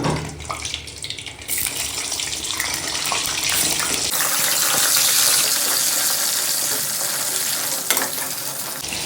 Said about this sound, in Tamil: நல்லா சூடாகிடுச்சு கத்திரிக்காய் போட்டுக்கலாம்